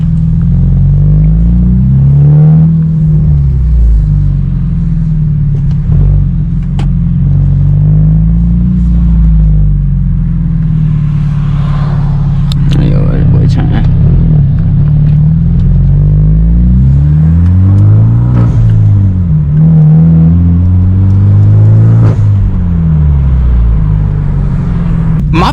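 A Hyundai Genesis Coupe 2.0T fitted with a Tomei Extreme titanium exhaust revs repeatedly, deep booming exhaust notes rising and falling in loud, close blips over a steady idle rumble.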